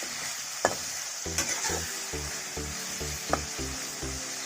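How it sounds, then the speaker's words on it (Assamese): Chicken sizzles steadily in a hot pan over medium gas while a spatula scrapes and stirs in repeated rhythmic strokes. "মাংসটো আমি অলপ সময় ভাজি ল'ম এনেকৈ"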